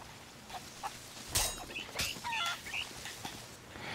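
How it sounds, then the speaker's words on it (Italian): A chicken in the Sea of Thieves pirate game clucks in a short burst of sharp, close calls mixed with a few thumps and scuffles, the clucks clustered in the middle and end with quiet gaps between. "Quindi, uccidete un pollo"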